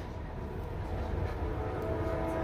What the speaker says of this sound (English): Another train's on its way.